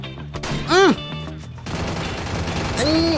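Rapid MP40 and mini shotgun fire crackles in dense bursts in the Free Fire mobile battle game, while a voice talks and exclaims loudly over the shooting.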